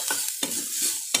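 Turmeric and salt are stirred in a pan: three quick scraping strokes of a spoon with short gaps between, close and moderately loud.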